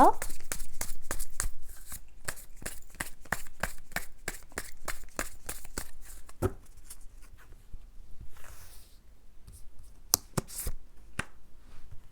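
Tarot cards being shuffled close up in a rapid string of crisp riffling snaps, then slower single card slides and draws, while someone speaks in Korean.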